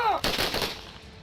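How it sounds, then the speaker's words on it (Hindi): A single sharp gunshot, fired into the air by soldiers as a funeral honour, cracks out, followed by a brief echoing decay, fairly faint and distant. "वहां मौजूद जवानों ने शहीद के सम्मान में हवा में गोलियां दागी।"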